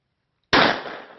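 A single blasting cap detonates in a mine, a sharp, loud crack after half a second of silence, followed by a short echoing decay through the underground space.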